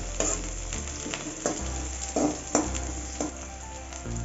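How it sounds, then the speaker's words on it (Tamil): Garlic, onion and curry leaves fry for a tamarind okra kuzhambu, sizzling softly and close, broken by repeated spatula scrapes and taps every second or so, with no speech. "பூண்டு வெங்காயம்லாம் நல்லா பொன்னிறம் ஆகிற வரைக்கும் வறுத்தெடுத்துக்கோங்க"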